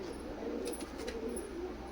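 Pigeons in a seller's collection of Pakistani breeds in Kolkata, cooing in low, soft repeated murmurs under steady background noise.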